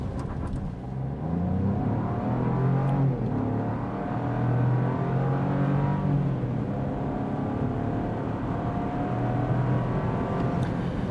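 A 2024 Buick Envista Avenir turbocharged SUV accelerates hard from a standstill to 60 mph with a slight wheel spin, its engine note rising steadily through gear changes, heard from inside the cabin with no talking.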